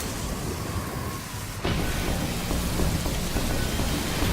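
Heavy rain hisses steadily over the Australian desert as a drought breaks, with a sudden crack of thunder partway through and the downpour intensifying afterward, loud and enveloping.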